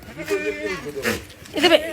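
Goats and a young kid on a family farm bleat in short, wavering cries, a couple close by, mixed with a person talking over them.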